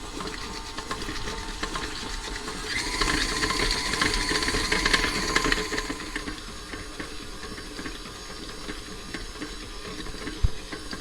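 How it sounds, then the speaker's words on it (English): An electric mixer beats butter cookie dough for Danish butter cookies until it turns creamy. The whirring motor rattles on steadily at close range, with a louder stretch in the middle. "you can either use a stand mixer or you can use a hand mixer, but you want to beat this a few minutes just until it's very creamy"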